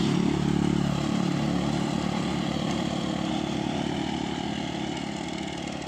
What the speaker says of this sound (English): Oh, two motorcycles.